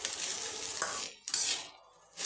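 Bottle gourd peel frying in a covered pan gives a steady, close sizzle with stirring scrapes. The sizzle cuts out briefly, then returns in a bright, hissing burst.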